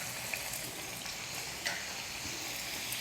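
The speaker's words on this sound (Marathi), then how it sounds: "तेल गरम झालं आहे आणि स्लो गॅसवरच आपल्याला ह्या तळून घ्यायचे आहेत" Hot oil sizzles steadily on low heat as gram-flour karanji pastries fry, two at a time in a small wok, a constant crackling hiss with a few small pops and clicks, close up and without voices.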